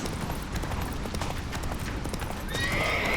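Horse hooves clip-clopping at a gallop in The Witcher 3 video game, with a whinny and steady game ambience, ending in a brighter whooshing tone.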